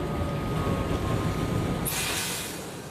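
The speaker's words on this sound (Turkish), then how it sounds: "Bu sırada İliç istasyonuna yanaşan tren meraklı bir bekleyişle karşılanıyor." The Doğu Ekspresi passenger train pulls into İliç station with a loud, continuous rolling rumble of wheels on rails, then a sharp hiss of air brakes near the end.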